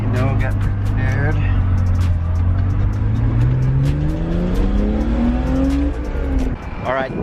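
BMW E46 330i on wheel spacers accelerating onto a highway, the engine climbing steadily in pitch through the gears from inside the car, with a person talking over it.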